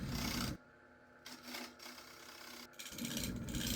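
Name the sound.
1-inch scraper turning a wooden platter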